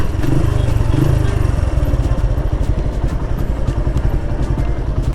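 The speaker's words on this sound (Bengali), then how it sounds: "সো সেমভাবে আমি রেভ ম্যাচিং করে করে গিয়ার ডাউন শিফট করছি" A motorcycle engine close by, chugging and rumbling at low revs with rapid clattering pulses as it slows and the gears are shifted down with rev matching, with no voices over it.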